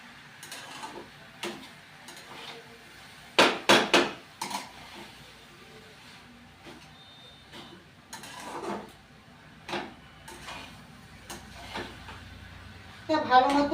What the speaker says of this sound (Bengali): এবার ভালো করে আমি বাঁধাকপিটাকে নেড়ে নেব।